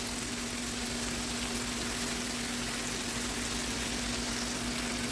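Marinated beef steak with garlic sizzles in a pan, a steady dense frying hiss with a faint constant hum underneath, close and continuous throughout with no talking.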